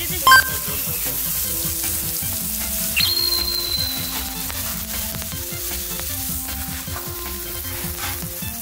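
Meat sizzles loudly on a hot yakiniku grill, a bright continuous crackle with steady spatter, a sharp tap at the start and a brief squeaky tone partway through.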